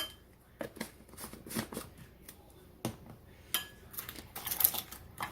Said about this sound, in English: And then mix all of that in together.